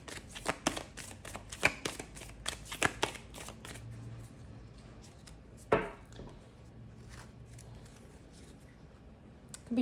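Deck of tarot cards being shuffled up close, rapid riffling flutters and sharp slaps in clusters, quiet overall with a few louder snaps and no speech over it.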